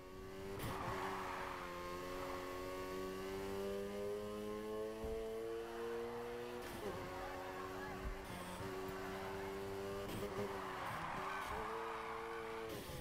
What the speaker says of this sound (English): Now try and hold those drifts. Steer into the corner and hit the gas for more slide.